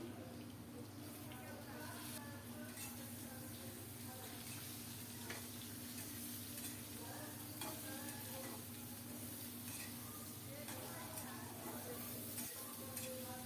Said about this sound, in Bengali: নেড়ে চেড়ে সবজিগুলো কষানোর পর